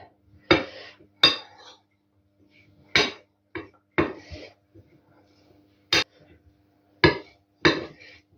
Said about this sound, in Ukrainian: Перемішаю ягоди з крахмалем.